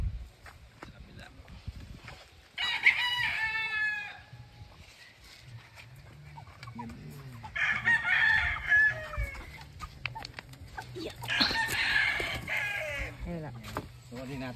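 Pet backyard chickens clucking while a rooster crows in several loud bursts nearby, over rustling, handling noise and voices talking quietly in the background.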